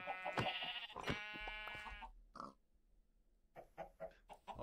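Sheep on a farm in a hardcore survival video game bleat in a few short, nasal calls, one after another and then a scattered pause, moderately faint with no talking.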